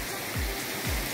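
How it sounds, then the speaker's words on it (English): A backyard pool waterfall splashes steadily into the pool beside a spa, giving a constant nearby wash of falling water with a couple of brief low whooshes. "Sit out by the waterfall"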